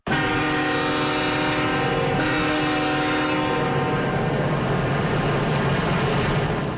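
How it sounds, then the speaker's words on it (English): The presidential funeral train carrying George H.W. Bush's casket sounds its horn in a long, loud sustained blast, then the rumble of the passing train continues after the horn stops. "That was the sound of the presidential funeral train that carried Bush's casket to the burial site"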